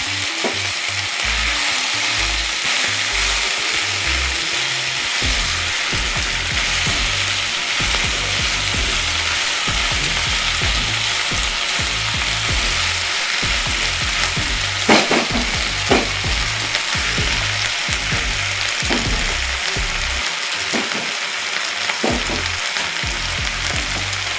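Fenugreek (methi) leaves frying in a pan, a loud, dense, unbroken sizzle and crackle with occasional stirring knocks and scrapes, close up and continuous throughout, no speech.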